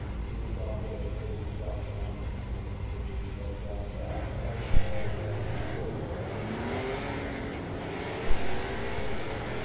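A pace car and a full field of race cars rolling off at a short-track race, engines droning steadily together with a couple of brief louder revs, mixed with low crowd and track ambience.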